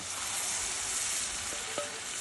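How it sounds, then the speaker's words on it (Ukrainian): Steady, close sizzling of eggs frying for shakshuka in a hot sadj pan, an even hiss throughout with a faint clink near the end and no voices. "Ось така краса смажиться."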